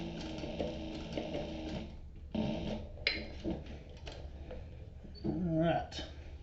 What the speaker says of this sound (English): I'm going to sew this down and then I'll show it to you again.